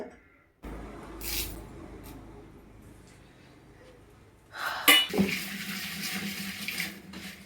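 Water is poured into a curry pot holding cumin, crushed garlic and coconut oil for a Lenten curry, making a steady splashing rush that starts after a short pause and grows louder and fuller near the end.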